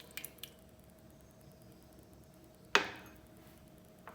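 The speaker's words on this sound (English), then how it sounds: "So here goes our 4 little eggs." Four eggs dropped onto a flat plate for French toast make a single quiet, wet plop in an otherwise near-silent moment, preceded by a couple of faint light taps.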